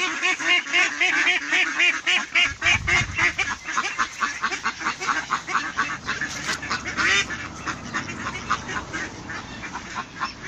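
Many mallard ducks quacking repeatedly and loudly nearby, a busy overlapping chorus of nasal quacks with a rhythmic pulse, no talking.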